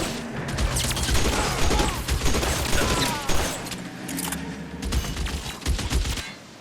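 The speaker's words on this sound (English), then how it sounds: "Shooting at me from those windows." Rapid bursts of gunfire from an L.A. Noire shootout crackle almost nonstop, with sharp shots and clattering volleys stacked over one another, loud and close, through the whole stretch.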